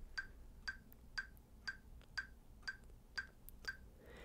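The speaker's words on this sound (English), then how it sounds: "here's the metronome at 120" A sharp metronome clicks steadily at 120 bpm, nine crisp ticks in a row with nothing else playing.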